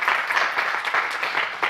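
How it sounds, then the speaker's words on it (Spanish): Dense audience clapping at a talk on website improvement, steady and fairly loud throughout the short stretch with no voices over it. "por favor, levántate, dale un aplauso."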